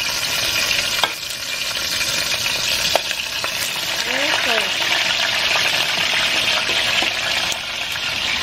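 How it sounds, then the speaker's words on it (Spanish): Pork loin browning in hot oil in a pan, a steady loud sizzle and crackle throughout with a few sharp pops and occasional stirring clatter. "el aceite ya está caliente, ya vamos a poner a dorarlo, que se dore muy bien por todos lados"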